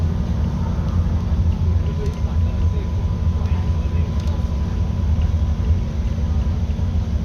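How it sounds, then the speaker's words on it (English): A deep, steady diesel engine rumble drones throughout, loud and continuous, from an old Dennis Trident double-decker bus with a Euro 2 engine idling or pulling away nearby in Manchester. "They can hear the old Euro 2 Helix 400 engine from here"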